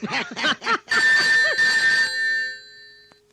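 A telephone rings indoors in a Malayalam domestic drama, with repeated bright electronic trills in short bursts that then settle into a sustained tone and fade.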